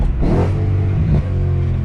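A BMW E92 M3 engine revving hard, a loud, close, sustained roar that swells early and again near the middle with a rough, crackling edge from exhaust pops.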